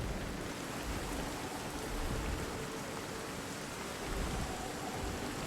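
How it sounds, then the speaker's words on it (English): Steady night rainfall in the video game Jurassic World Evolution 2 hisses as a continuous, even wash of noise with a faint low rumble underneath, distant and quiet, without any speech. "That shot of the rain, night, the light illuminating it from the bottom."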